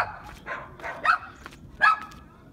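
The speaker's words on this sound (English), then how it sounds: "we get away from the dogs" Dogs at a house with a front yard garden bark in a handful of sharp, separate yips and woofs, spaced unevenly over a couple of seconds, moderately near and without talk.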